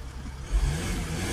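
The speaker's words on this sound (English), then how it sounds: "Start the engine up." A Mercedes GL350 3.0 V6 diesel with a faulty DPF sensor starts up, its engine catching with a low surge partway through and settling into a steady rumble, near and alone.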